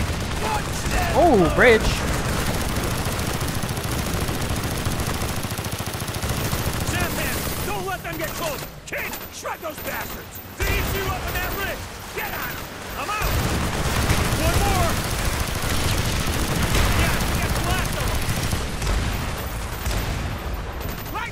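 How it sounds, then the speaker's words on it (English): Missiles fired in the video game Call of Duty: Black Ops, with booming launches and blasts under steady gunfire and continuous combat noise, while someone talks over it. "Keep shooting missiles at everything."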